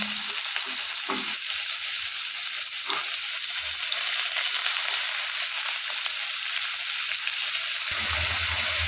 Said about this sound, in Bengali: তেল গরম হয়ে গেছে, এটার মধ্যে দিয়ে দেব তেজপাতা, তার সঙ্গে দিয়ে দেব পেঁয়াজ কুচি